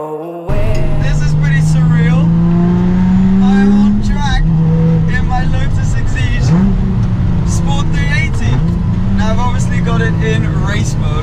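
A Lotus 380 sports car driving on a race track in race mode, a loud close engine drone that climbs steadily in pitch, dips at gear changes and rises again, with a voice talking over it.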